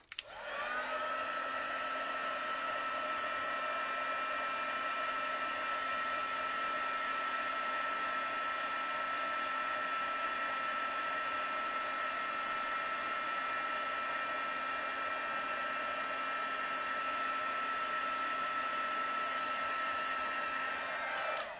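An embossing heat tool blows hot air over stamped embossing powder on a card, a steady, close fan-like whoosh that holds constant for over twenty seconds with no talking.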